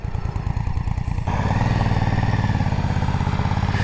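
A Suzuki 800DE motorcycle rides past on a road. Its engine thrums loud and close with a pulsing beat that swells into a steady, throaty roar.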